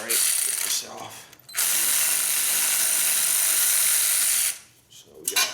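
A ratchet works loose a bolt on a dirt bike engine cover, giving a sustained loud buzzing whir for about three seconds between brief pauses, close up, with a short burst at the end.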